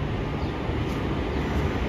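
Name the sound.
passenger train arriving at Jangipur railway station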